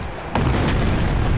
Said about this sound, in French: petite explosion qui m'a surpris.